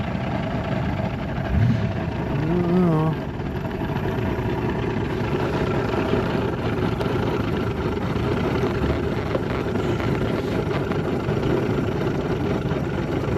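Old Mercury 135hp outboard on a 1989 Starcraft boat idles at a ramp with a steady, even engine drone that runs throughout. A brief voice cuts in early.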